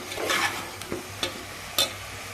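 Spoon stirring a chicken and drumstick curry with added chilli powder in a pan, with a soft sizzle underneath and a few distinct scraping strokes at an irregular rhythm, close and clear with no talk.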